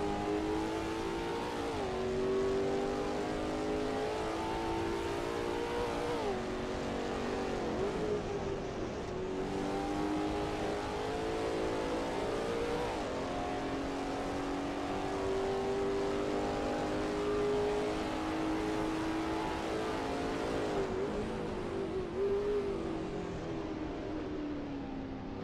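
A race car pulls out of the pits at Road America during a USRRC race, its engine droning loud and steady as it climbs through the gears, with repeated revving upshifts and a continuous whine lasting throughout.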